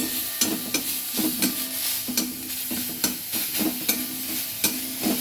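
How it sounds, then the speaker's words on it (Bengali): Green chillies and garlic frying in an old, worn wok, a loud continuous sizzle broken by regular scraping strokes of a spatula against the metal. "দিয়ে দিলাম কাঁচা লঙ্কাগুলো, দিয়ে দেবো রসুনটা"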